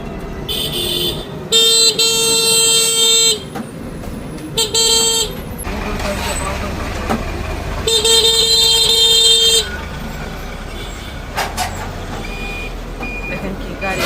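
Busy road traffic with cars and trucks passing close by, several loud horn blasts and toots in repeated bursts, and rumbling engines throughout, with a reversing-style beeping mixed in.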